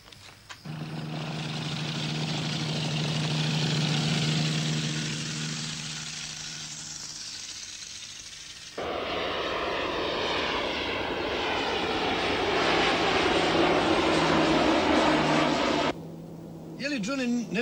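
Airplane engine droning steadily and loudly throughout, with a sharp change in character partway through, suggesting a shift in position or throttle; a voice briefly speaks beneath it near the end.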